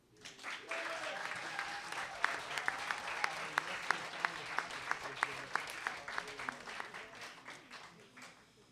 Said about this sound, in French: je voudrais quand même savoir, par applaudissement, si vous faites passer nos enseignants, Olivier et Sophie